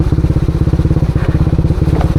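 A motorbike on a trail ride heading to a fishing spot, its engine thumping in a fast, steady, loud pulse close up, with faint clatter and no voices over it.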